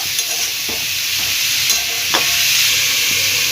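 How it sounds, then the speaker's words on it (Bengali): Loud, steady sizzle of salted snake gourd frying in a pan, with occasional scrapes and taps of a spatula stirring it. "ভালোভাবে নেড়ে নুনটাকে মিশিয়ে নেব"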